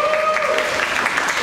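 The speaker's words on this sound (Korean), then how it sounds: "역시 여진구 씨 박수로 맞이해 주시죠." Clapping from a crowd welcoming actor Yeo Jin-goo at the tvN Hotel del Luna press conference photo session, an even patter under a sustained tone, brief and fairly loud.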